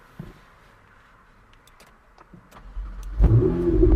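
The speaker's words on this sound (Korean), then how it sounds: "시동을 한번 걸어 볼까요, 그럼?" A Ferrari 488 Spider fires up from push-button start: quiet cabin, a brief starter whir, then the engine catches with a loud, deep rising roar settling into a strong idle, close by.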